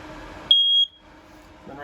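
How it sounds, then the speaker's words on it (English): A single short high-pitched beep from an RV smoke detector sounds briefly, a sharp electronic chirp over a quiet cabin background. "Straight above our heads here is our smoke detector."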